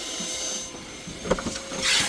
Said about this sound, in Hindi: अब अंदर वैक्यूम क्लीनर से जितनी भी डस्ट है वो सारी साफ हो रही है।